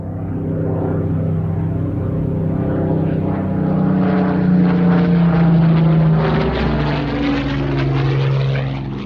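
A Hawker Hurricane fighter, the RAF's last to enter service, flies past at the Waddington airshow with a loud, steady propeller-engine drone that rises and swells in pitch as it passes close overhead.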